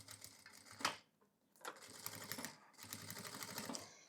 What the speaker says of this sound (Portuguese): E agora aqui eu vou costurar a minha peça.